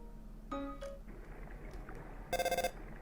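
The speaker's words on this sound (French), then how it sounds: "Ah, téléphone? Allô?" A telephone rings in the video game Undertale: a short melodic chime, another brief tone, then a louder rapid trilling ring near the end, over a quiet steady background.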